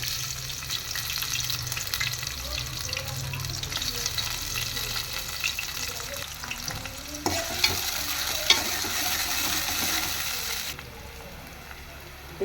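Onions fry in hot oil while being stirred for a tomato curry, a dense close sizzle with steady scraping and stirring that continues throughout without speech.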